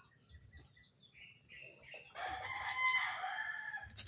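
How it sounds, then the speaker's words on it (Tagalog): A rooster crows loudly nearby, one long drawn-out call following a few faint bird chirps, with a low rumble underneath. "Kung may naririnig kayong manok."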